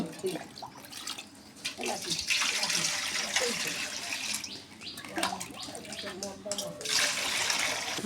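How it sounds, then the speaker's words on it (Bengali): Water pours in a steady rushing stream into a large cooking pot during home preparations for a turmeric ceremony feast, loud and close, with people talking over it. "পানি দেওয়া হচ্ছে।"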